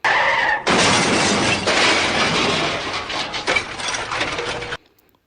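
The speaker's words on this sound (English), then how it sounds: "a car cut me off and I crashed into it" A loud, close crash of crunching, shattering debris from a car collision, a dense sustained burst of breaking and scraping that runs several seconds before cutting off abruptly.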